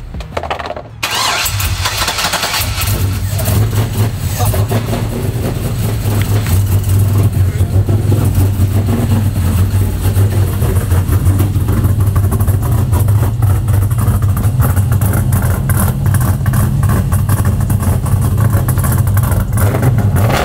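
A car engine with a freshly installed nitrous kit and cam cranks and fires up, then settles into a loud, lumpy idle that continues steadily throughout, with a brief exclamation near the start.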